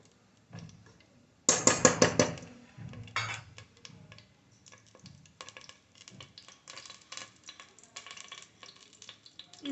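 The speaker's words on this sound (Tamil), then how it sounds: "ஆயில் கொஞ்சம் சூடானதும் இந்த கரம் மசாலா ஸ்பைசஸை சேர்த்துக்கலாம்." Whole garam masala spices dropped into hot oil for a homemade mushroom biryani: a sudden loud sizzle for about a second, then quieter crackling mixed with scattered metal utensil clinks close by.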